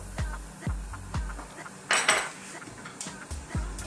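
Sugar and salt stirred into papaya pickle brine for atchara: a utensil knocks and scrapes against the container in a steady rhythm of repeated clinks, close and clear, with a brief brighter splash or rattle midway and no talking.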